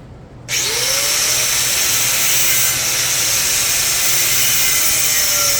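A power tool cutting into the corner of a 1955 Pontiac rear bumper, starting suddenly and then whining loud and steady at close range with a slight rising pitch.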